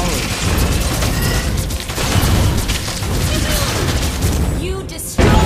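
Structure collapse in Mobile Legends as a turret is destroyed, heard as a loud continuous rumble of booming game effects with bursts and crashes, a voice talking over it and a sharp impact near the end.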